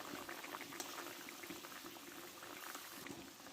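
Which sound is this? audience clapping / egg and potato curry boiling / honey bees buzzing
egg and potato curry boiling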